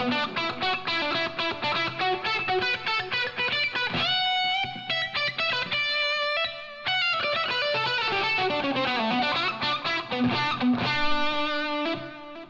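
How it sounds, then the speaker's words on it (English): A distorted electric guitar solo played through a Line 6 Helix Lone Star patch, bright sustained lead lines with fast runs and held bends over a steady backing, loud and continuous with no talking. "So this is the outro guitar solo."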